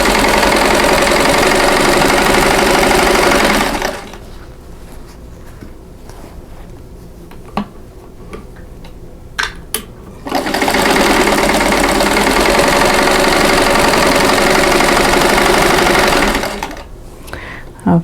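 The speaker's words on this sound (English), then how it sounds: "now turn them around and sew the lines on the other pieces" A sewing machine stitches quilt block pieces for a butterfly block in two loud, steady runs of several seconds each, separated by a pause filled with quiet handling clicks and taps.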